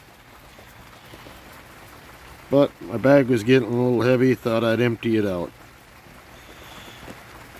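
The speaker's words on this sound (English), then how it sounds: "it's raining pretty good now, so I'm probably done hunting for the day" Steady rain patters on the ground in a park during a metal detecting hunt, a continuous broadband hiss under a man's close, clear talk in the middle of the clip.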